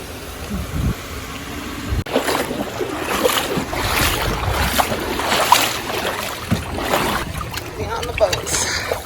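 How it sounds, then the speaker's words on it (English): A boat carries passengers across open water to Mbudya Island in Tanzania, its steady motor and water wash running throughout with wind noise, while people talk over it. "We're on the boat."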